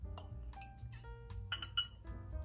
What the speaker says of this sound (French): on va s'asseoir, on va se verser un verre d'eau